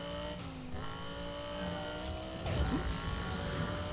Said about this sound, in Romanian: să vedem dacă sunetul de la Nissan este cel comparabil cu restul jocurilor